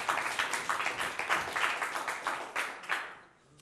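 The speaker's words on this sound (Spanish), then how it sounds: "Vamos a recibir con un fuerte aplauso a Johnny." A theatre audience applauds steadily, a dense patter of many hands clapping at once that tapers off near the end.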